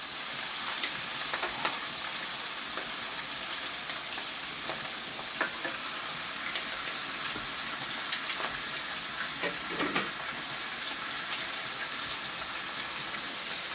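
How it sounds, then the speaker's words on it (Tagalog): Sinigang soup with fish liver and roe boils in a pot, a steady close bubbling hiss with small crackles and pops, and no voices. "Kumukulo na yung sinigang."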